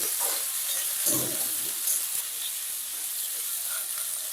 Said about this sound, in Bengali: এবার আলুগুলোকে একটু ভেজে নেব